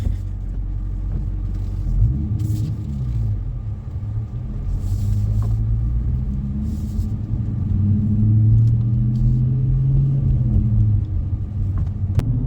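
A deep, throaty 2019 Dodge Challenger R/T engine with a six-speed manual rumbles steadily while driving, with low growling swells as it pulls and shifts, heard from inside the car.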